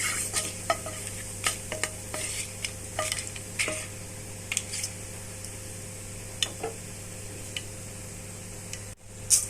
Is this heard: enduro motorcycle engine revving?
no